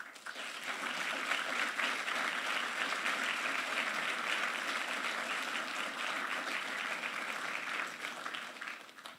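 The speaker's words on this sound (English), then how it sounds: "that deserves a huge, huge round of applause." Sustained crowd applause at an XR industry awards opening ceremony, a broad, even roar of many hands clapping, steady for about nine seconds before tapering slightly at the end.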